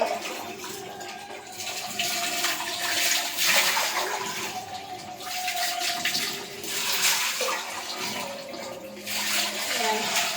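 Water poured over hair to rinse it: continuous splashing and gushing that swells and fades in several pours over about ten seconds, close and fairly loud.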